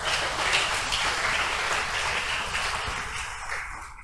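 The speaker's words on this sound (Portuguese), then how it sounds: "Dê um aplauso a Jesus" A church congregation breaks into sustained applause, a loud, dense wash of many hands clapping together that holds steady and then tapers off at the end.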